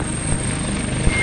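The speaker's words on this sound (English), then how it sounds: "there's just some helicopter getting airborne from Golf 1" A helicopter's steady rotor and engine drone as it takes off from a pad, close and continuous, with no one speaking.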